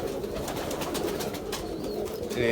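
Low, rolling coos from Taar wali pigeons, a cross between Kane wale and Teddy pigeons, fill the space nearby in a steady overlapping murmur, unbroken by any voice.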